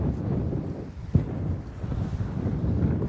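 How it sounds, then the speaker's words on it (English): Strong wind over a lake, heard from a boat, buffets the microphone in a constant, roaring gust, with a dull thump partway through and no voices. "You can hear the wind blowing, see the wind blowing, see the waves."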